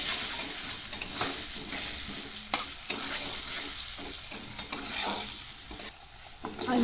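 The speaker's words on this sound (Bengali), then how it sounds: "ওই তেলের মধ্যেই আলু দিয়ে তার মধ্যে নুন আর হলুদ দিয়ে ভেজে নেওয়া" Potatoes fry in hot oil with salt and turmeric, a constant close sizzle broken by irregular scrapes and knocks of a utensil stirring in the pan.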